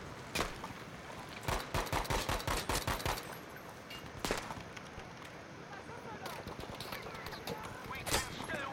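Rifle gunfire in Battlefield V: a rapid string of sharp shots, then scattered single cracks and distant battle rumble, with a voice talking intermittently over it.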